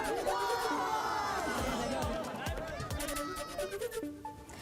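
Party workers celebrate a municipal election victory, throwing gulal powder in a rowdy crowd of overlapping shouts, whoops and chatter, with a news reader's voice partly heard over the din.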